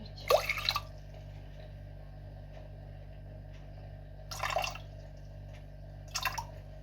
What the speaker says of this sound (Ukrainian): Зараз відміряю водичку.